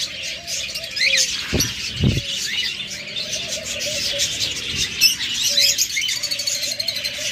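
Caged budgerigars, cockatiels, lovebirds and diamond doves at a bird market chirp and twitter steadily, with a few louder close calls and brief flapping among the busy, overlapping chatter.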